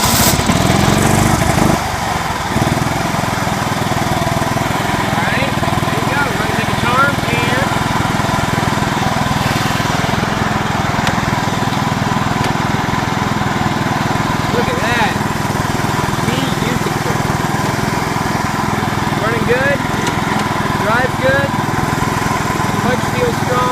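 A John Deere LX173 lawn tractor engine, fitted with a swapped tire and run on full choke, cranks and catches in the first seconds, then settles into a loud, steady running drone that carries on to the end.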